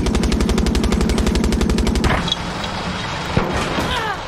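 Rapid, evenly spaced gunfire bursts from a tank gun in the video game Far Cry 6, loud and close for about two seconds, then cuts off into rumbling explosions and scattered booms.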